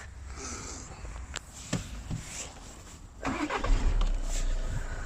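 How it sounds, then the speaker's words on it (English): Skoda car engine starting, a faint starter crank followed by the engine catching and settling into a low, steady running rumble, with small clicks and rustles beforehand. "Need to switch on the car"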